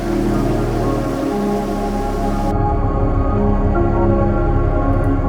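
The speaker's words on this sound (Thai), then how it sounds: "ก็เอาอีกแล้วครับฝนเทลงมา หนักสุดๆเลยครับ" Dense, loud, heavy rain hammers down steadily with a constant rushing hiss, shifting tone partway through as if heard from a different spot.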